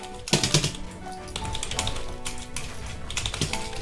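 Keys tapped on a cheap waterproof RGB keyboard priced at 14.99 €, producing loud, close, clacky strikes in short uneven clusters over a bit of background noise.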